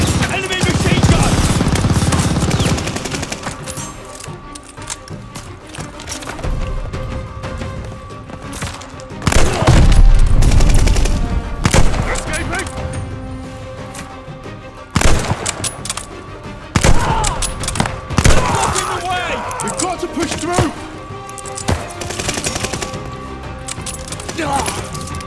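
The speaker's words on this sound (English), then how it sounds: "Enemy machine gun." Enemy machine gun fire in Call of Duty Vanguard, long bursts of rapid gunshots with loud booming impacts and a chaotic battle din, intermittent shouting voices mixed in.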